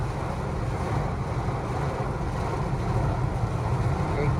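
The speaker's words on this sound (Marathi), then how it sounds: "एकदम तुफान पाऊस आला, तुफान पाऊस" A heavy rainstorm with strong wind gives a continuous, thick roar of falling water and gusts, loud and near, without any talking.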